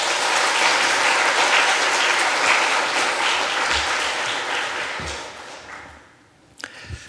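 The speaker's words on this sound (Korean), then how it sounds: "우리 목사님 박수로 환영하도록 하겠습니다" A church congregation applauds to welcome a pastor at a worship service, the clapping dense and sustained for several seconds before tapering off, followed by a few soft thumps near the end.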